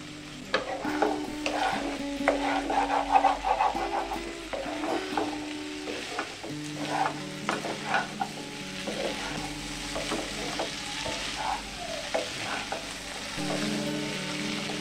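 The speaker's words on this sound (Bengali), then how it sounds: "মশলার সঙ্গে ছোলা আলু খুব ভালোভাবে কষে নিয়েছি" Boiled chickpeas and potatoes are stir-fried with spices and kasuri methi for a wedding-style chana paneer, giving repeated close scraping and stirring scratches over a low sizzle, with steady background music underneath.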